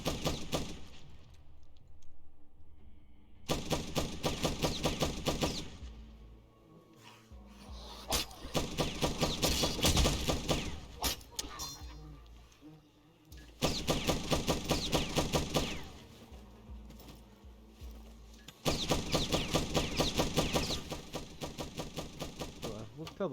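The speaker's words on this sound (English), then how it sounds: "And literally the first thing I hear here is gunfire." Rapid bursts of automatic gunfire from The Last Stand Aftermath come in several loud, sustained volleys with quieter gaps between them.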